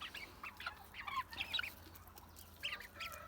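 Soft, scattered clucks from a Liven calico broody hen, a few brief bursts with quiet gaps between, fairly faint against a low background hum.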